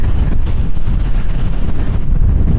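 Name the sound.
strong wind on beach, microphone wind noise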